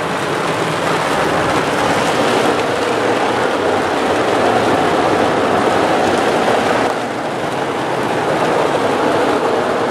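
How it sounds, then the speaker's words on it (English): Heavy rain downpour at a Circle K gas station, a steady loud broadband wash of water pouring down and drumming on surfaces, continuous and close throughout, with no talking. "the downpour started."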